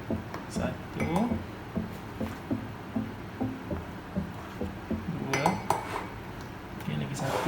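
A metal tablespoon clinks and scrapes against a bowl and mug while flour is measured for a microwave mug chocolate cake: a series of light, rhythmic taps and scoops, close and fairly soft, with someone talking throughout.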